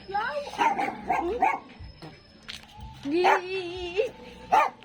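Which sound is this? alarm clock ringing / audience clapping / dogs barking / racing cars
dogs barking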